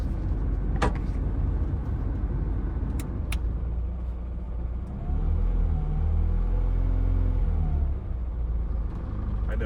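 A 1988 Austin Metro 1300 drives down a lane early in the morning, a low steady engine rumble throughout with a few sharp knocks and a brief pitch swell in the middle.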